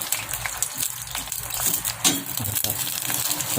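French fries frying in hot oil over a lowered gas flame give a loud, continuous sizzle, broken by occasional stirring scrapes and bubbling bursts, with no voices.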